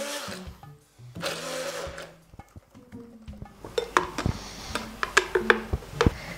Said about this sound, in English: I'm just going to use my hand blender here